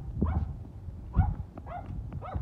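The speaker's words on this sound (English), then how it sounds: "That's doggy." A dog barks near the microphone in a few separate yips and woofs spaced across the moment, some with a whimpering edge, at a family home with no clear talk.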